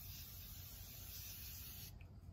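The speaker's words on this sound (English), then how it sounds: "I take my Morphe setting spray" Morphe makeup setting spray sprays in one continuous fine hiss held for about two seconds, close and faint, then cuts off abruptly.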